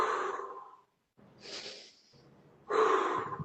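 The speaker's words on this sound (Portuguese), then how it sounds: "eu vou exagerar na minha respiração só para entender" Exaggerated breaths repeat in slow sequence: a loud breathy exhale, a pause, a softer inhale and a further strong exhale, close up with no talk over them.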